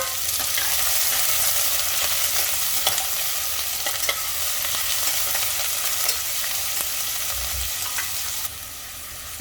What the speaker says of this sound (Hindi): अब इसमें डाल देंगे कटा हुआ प्याज